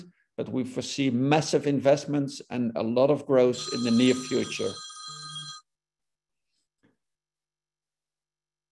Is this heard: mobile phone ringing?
yes